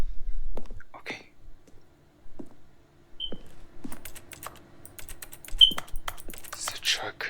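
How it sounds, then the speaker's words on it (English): Computer keys clicking in scattered bursts of light taps, intermittent and fairly close, mixed with quiet background sounds from a game. "You hear my keys clicking on the thing."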